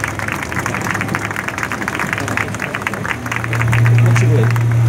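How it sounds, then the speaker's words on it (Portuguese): Crowd applause at an outdoor gathering on Paulista avenue, a dense continuous clapping with a steady low hum beneath that swells louder toward the end. "Queria que você aplaudisse a essa vida que está aí com vocês."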